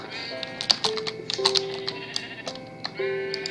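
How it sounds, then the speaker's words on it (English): Sheep bleating in the Minecraft video game, several short repeated game bleats with steady tonal calls spread across the clip, with faint clicks between them. "Right here's the sheep."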